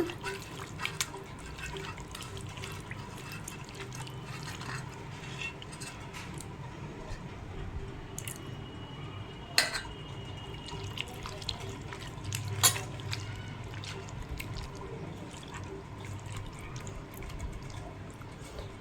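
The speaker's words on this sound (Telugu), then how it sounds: "ఇది మసాలా వాటరు, ఇది వేస్తున్నాను. మసాలా నూరి పెట్టుకున్న వాటరు." Ground masala water is poured into a simmering fish curry, giving a soft, continuous liquid trickle with a few light clinks, heard quietly under talk.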